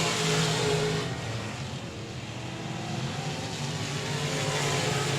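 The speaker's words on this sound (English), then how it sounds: "White flag, 1 more trip around Texarkana 67 Speedway for Brandon Ball." A race car circles Texarkana 67 Speedway on the last lap of a feature race, its engine a steady, loud roar that dips briefly and then swells again, with crowd and track ambience behind it.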